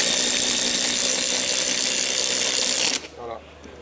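An impact wrench drives a HECO Multi-Monti concrete anchor screw with a loud, continuous buzzing hammer that cuts off abruptly near the end, followed by a faint shuffle.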